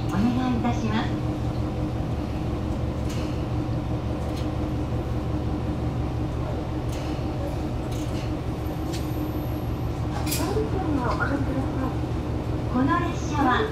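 Interior of an Ibara Railway one-man train in motion, a continuous low rumble and rhythmic wheel clatter with squealing tones, while a recorded announcement speaks over it.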